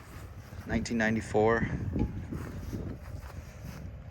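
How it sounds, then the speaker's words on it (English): Wind gusts buffet the microphone outdoors at a vehicle auction, a low rumbling roar under a man's close speech, steady and fairly faint. "Sorry for the wind, it's windy out here."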